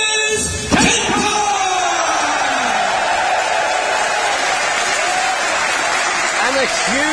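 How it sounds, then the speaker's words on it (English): A wrestling crowd in Coventry roars for KENTA, the Tokyo wrestler, as he is introduced at a NOAH tag match; loud sustained cheering and whoops fill the hall, with an announcer's voice at the start. "And a huge reaction for KENTA."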